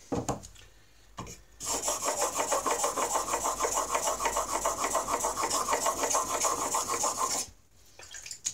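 A planer blade is honed on a whetstone in steady, rapid rasping strokes, close and continuous for around six seconds, with quieter handling before and after.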